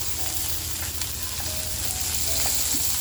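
Pomfret stuffed in turmeric leaf frying in a pan with a little oil, a constant close sizzle and crackle with occasional small pops.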